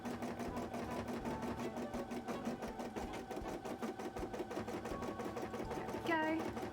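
A sewing machine stitches a cosplay costume piece with a steady rapid mechanical chatter, running continuously at moderate level throughout.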